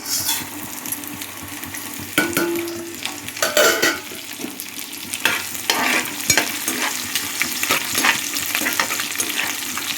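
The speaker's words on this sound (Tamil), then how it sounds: "இதை வந்து நம்ம வந்து தாளிக்கதில் போட்டு இப்போ நல்லா ஃப்ரை பண்ணிக்குவோம்" Loud, close crackling and sizzling of spices in hot oil, with scraping stirring sounds throughout.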